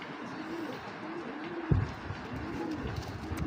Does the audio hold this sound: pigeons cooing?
yes